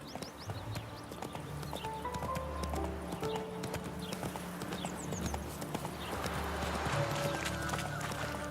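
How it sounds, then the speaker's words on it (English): Roach the horse gallops steadily in The Witcher 3, with rhythmic hoof clops throughout and a faint whinny. Game music and ambience sit underneath. "Run, Roach"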